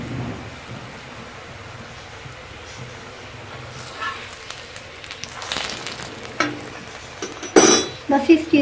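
Besan roti is flipped and cooked in a pan over medium heat, a soft sizzle building from quiet into louder scraping and rustling bursts toward the end, with no speech.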